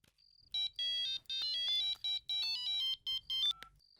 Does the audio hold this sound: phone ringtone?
yes